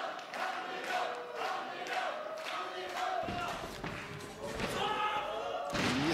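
A wrestler crashes onto the ring mat from a spinebuster at an NWF show, a heavy thud landing amid crowd noise and shouts, with a commentator talking over the arena.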